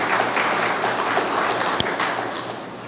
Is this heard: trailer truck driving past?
no